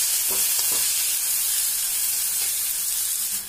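Tomatoes fry in a pan while being stirred, producing a loud, continuous hissing sizzle with faint scraping underneath, close up and without talking.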